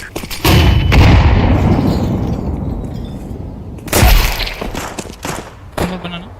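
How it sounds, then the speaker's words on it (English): A grenade blast in Counter-Strike 2 lands as a loud, close boom that tails off into rumbling gunfire, with a second heavy burst a few seconds later and scattered shots between them. "Grenade out."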